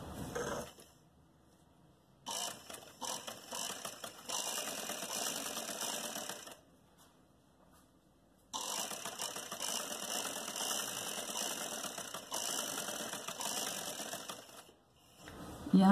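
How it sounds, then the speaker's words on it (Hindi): A sewing machine stitches a sleeve for an umbrella-style bell sleeve, running in two long bursts of steady mechanical whirring separated by quiet pauses, close and fairly loud. "यहाँ से इस तरीके से सिलाई होगी।"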